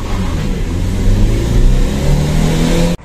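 Stock Chevrolet Aveo accelerating hard in a drag race, its engine droning loud and steady with rising revs for about three seconds before cutting off abruptly.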